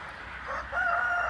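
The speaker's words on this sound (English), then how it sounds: "A rooster. There he is." A rooster on a small farm crows once, loud and close, his call rising and holding steady over quiet farmyard background with no talk.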